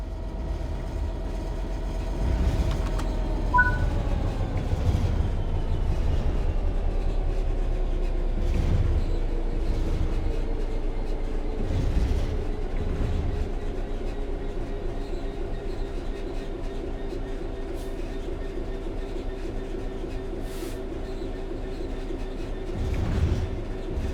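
In Train Sim World 3, a train coasts on level ground with a steady rolling rumble and a motor tone that eases lower and settles. Periodic rail clicks recur throughout, and a short chime sounds early on.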